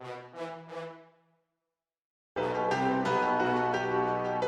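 Three swelling brass-like chords fade out, then after a short silence a dense, loud brass chord passage kicks in and holds.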